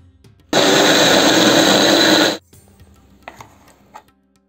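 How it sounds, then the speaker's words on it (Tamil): A kitchen mixer grinder blends Chettinad kandhar appam batter with coconut in one loud, steady whirring burst of about two seconds, then stops, leaving faint clinks and quiet room sound. "இப்போ நம்ம இது கூட தேங்காய் சேர்த்து அரைச்சிக்கலாம்."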